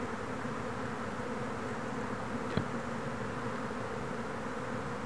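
Honey bees swarming, a steady dense buzz filling the air at close range, continuous and even in loudness with one brief knock midway, no voices.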